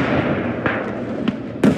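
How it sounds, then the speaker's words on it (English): Grenades going off in the World War I shooter Beyond The Wire, a few muffled thumping blasts at irregular intervals over a low rumble, the last one the sharpest and loudest. "Throw your grenades."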